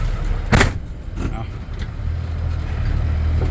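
A dump truck engine with modified valves rumbles low and steady, with a sharp burst near the start before settling into a sustained idle-to-rev drone, close by with voices around it.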